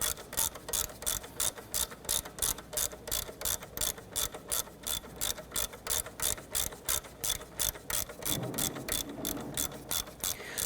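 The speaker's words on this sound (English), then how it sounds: "loosen the back bolt here. This is a 12mm. I'm just going to spin that right out" A hand ratchet spins a 12mm bolt out of a 1992-1996 Toyota Camry 2.2L four-cylinder engine during water pump housing work, giving a rapid, even run of sharp clicks up close with a short pause near the end.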